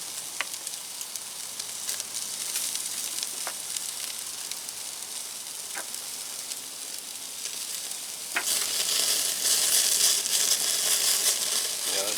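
Tomahawk steak sears in butter in a hot pan, a steady close sizzle with sharp pops, swelling louder and denser near the end as the fat spits and crackles.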